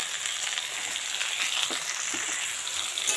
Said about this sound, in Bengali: তার সাথে কচুরলতাটাও কিন্তু ভালো করে ভাজি নিন